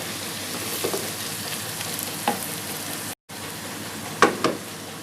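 Garlic sizzling in hot oil in a pan, a steady close frying hiss with a few louder crackles and stirring scrapes, briefly cutting out near the middle.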